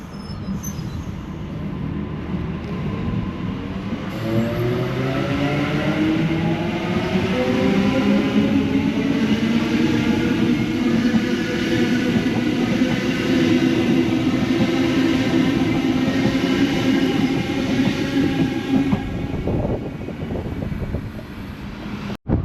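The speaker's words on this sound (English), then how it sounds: "Now we have B22 departing for a service to City Circle." Passenger train departing Summer Hill station on a City Circle service, a loud sustained rumble with rising motor whine and squealing wheels building over about twenty seconds, heard close and alone.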